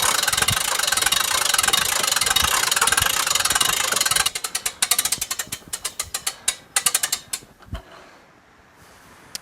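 A hand crank raises an RV's setup: steady mechanical whirring, then a run of distinct ratcheting clicks that slow and thin out near the end, close and fairly loud.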